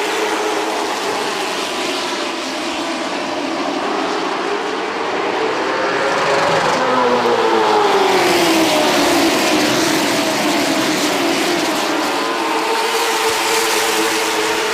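Late model stock cars race past at Ace Speedway, a loud, sustained engine roar with a rising and falling pitch as the pack passes close by.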